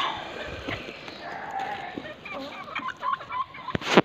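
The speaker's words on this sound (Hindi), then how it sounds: "इधर मुर्गियाँ बहुत शोर मचाती हैं।" Chickens cluck and squawk around a yard where pigeons are also kept, a steady busy chatter of hens with a few sharper calls and a loud burst near the end.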